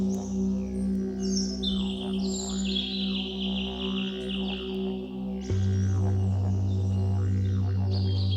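Sampled birdsong woven into a sound healing music track, with bright chirps and tweets over a sustained drone, low bowl-like tones and a swelling pad, the birds fairly prominent in the mix.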